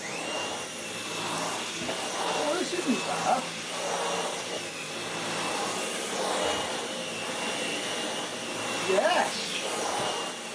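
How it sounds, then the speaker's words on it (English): A Dyson V12 Digital Slim cordless stick vacuum runs with a constant high whir, surging slightly as it moves, while a person talks briefly over it. "could we perhaps vacuum with it?"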